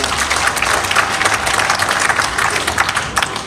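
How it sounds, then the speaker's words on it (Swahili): An audience at a Menstrual Hygiene Day celebration at a polytechnic in Busia applauds, giving a dense, loud crackle of many clapping hands that holds steady throughout. "Mpigieni makofi jamani."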